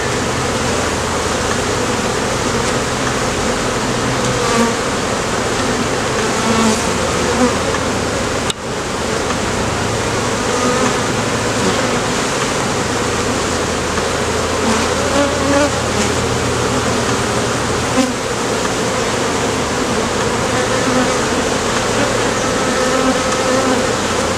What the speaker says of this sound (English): since there's so many bees on it, I can't be sure the queen's not on it